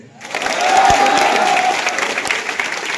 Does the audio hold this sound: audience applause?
yes